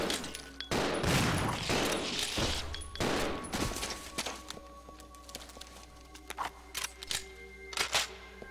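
Shotgun blasts aimed at spiders in the survival horror game Resident Evil 0, a few loud booming shots in the first few seconds followed by quieter scattered clicks and thuds, no talking.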